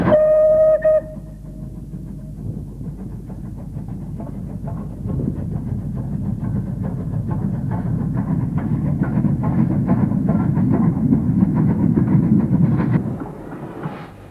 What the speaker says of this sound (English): This West Country Light Pacific carried the name Brentor.